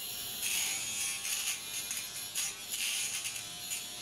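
A Japanese-made-style electric shaver buzzes steadily up close during a morning face-washing routine, a continuous bright whine that wavers slightly as it moves over stubble, with no talk.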